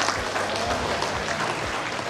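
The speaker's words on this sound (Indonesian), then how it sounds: "Tepuk tangan dulu." A crowd at a university faculty ceremony claps in a dense, continuous burst of applause that fills the whole short stretch.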